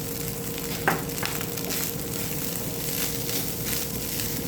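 Egg fried rice sizzles and crackles steadily in a hot pan, a continuous close frying hiss with one brief clatter of a utensil near the start.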